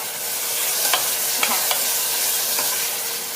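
Pork belly stir-frying in a hot pan while a Thai braised egg dish is cooked, a steady loud sizzle broken by a few light scrapes of stirring.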